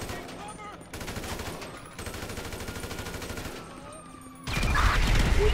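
Heavy gunfire from a big gun in Grand Theft Auto V, sustained rapid bursts with a louder, booming stretch near the end, dense and close amid game noise.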